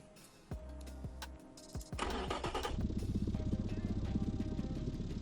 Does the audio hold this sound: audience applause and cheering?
no